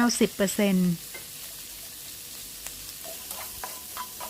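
Shrimp and squid stir-fry in a hot pan with a low, steady sizzle and light stirring scrapes, after a brief, louder tonal burst like a voice at the very start.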